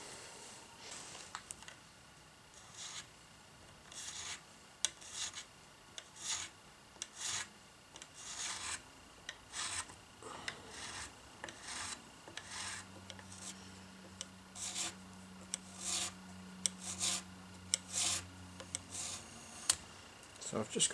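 Hand file rasping over the carved wooden body of a Les Paul Junior style guitar, a steady run of short rhythmic strokes, close and fairly quiet, with a low steady hum entering partway through.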